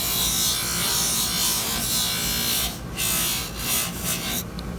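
Polishing wheel buffing wax to a smooth finish, a loud continuous near rasping whir that holds steady with a few brief dips and no talk.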